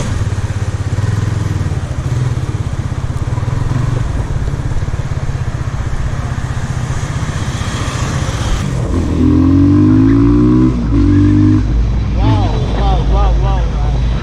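A Benelli Leoncino 250 motorcycle's engine and exhaust drone loudly and continuously while riding, with the pitch rising and falling as it revs near the end and a voice faintly under it.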